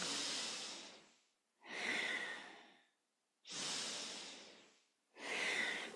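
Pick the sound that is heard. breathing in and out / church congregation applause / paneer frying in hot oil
breathing in and out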